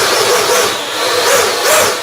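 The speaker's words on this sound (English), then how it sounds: "This is what a good fan sounds like." A balanced electric ducted fan (EDF) motor runs steadily, giving a loud, even airy roar with a faint buzzing edge and a gently swelling level, heard close and alone.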